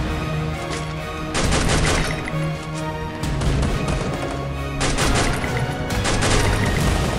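Rapid bursts of gunfire, including sniper rifle shots, in the video game Free Fire; loud cracking volleys come in clusters, with short quieter gaps between them.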